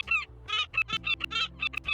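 Seagulls in Tiny Bookshop, a cozy bookshop game, squawking in a quick run of close, loud, nasal honking calls, about eight in two seconds, with no voice over them.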